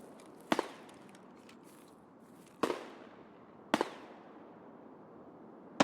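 Gunfire in the shooter Escape from Tarkov: a few loud, sharp shots spaced seconds apart, each with a quick decaying echo, another starting right at the end, over a low steady background.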